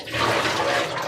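Cold tap water runs steadily for dyeing fabric, a continuous close rushing gush that holds level for about a second with no one speaking.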